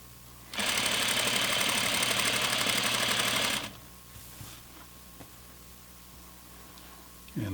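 A sewing machine stitches flannel fabric along a half-inch seam for pajama pants, a loud, fast, even mechanical whir running for about three seconds and then stopping abruptly, leaving a quiet room with faint handling noises.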